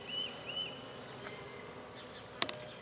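Honey bees buzz around a hive feeder set up for new 2022 packages, a steady faint drone of many insects with a sharp click near the end.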